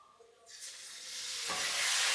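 Ground masala paste is poured into a hot pan for methi masala and stirred, bringing a soft rising sizzle that swells and grows louder, with a scraping stir partway through and no voices.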